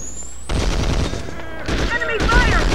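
Enemy gunfire in the PS2 game Conflict: Global Terror: dense bursts of shots begin after a brief quiet lead-in and continue loud and steady to the end, with a game voice faintly mixed in.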